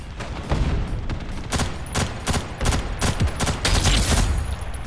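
Rapid gunfire from the shooter game Ghost in the Shell: First Assault, loud repeated bursts of shots in quick irregular succession with booming impacts throughout.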